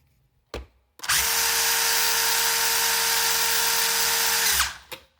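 SG1603 remote-control car with a brushless motor spins up into a loud, steady high-pitched electric whine that holds for about three and a half seconds before winding down, with brief handling knocks at either end.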